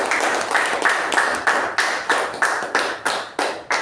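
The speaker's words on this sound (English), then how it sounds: "let's give both the speaker and the evaluation a good round of applause" A Toastmasters meeting audience gives a round of applause for a speaker and evaluator, heard as close, steady clapping with a strong, regular pulse of hand strikes, each burst decaying quickly, with no talk over it.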